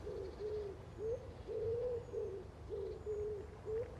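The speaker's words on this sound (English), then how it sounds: "Can hear the old wood pigeon." A wood pigeon coos repeatedly in a steady rhythmic phrase on a links golf course at Muirfield during The Open, clear and fairly close against a low outdoor rumble.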